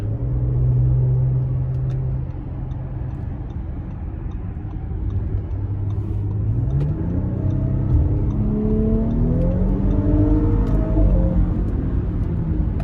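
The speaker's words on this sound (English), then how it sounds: "So we're gonna try and give it a little throttle here, getting on the interstate." A 2023 Audi SQ5 3.0T Quattro pulls onto the interstate under throttle, engine hum swelling from inside the cabin with rising pitch and several smooth upshifts over a steady road rumble, no voices.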